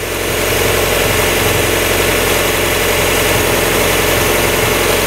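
A Mazda Miata engine idles close by with a steady, loud, rough drone and a fine rhythmic rumble running unbroken throughout, with no voices.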